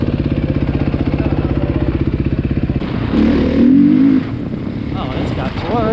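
A 2020 Beta 500cc dual-sport motorcycle engine chugs at a steady, loud idle-like pulse up close, then revs up briefly before settling, with people talking over it on a demo ride.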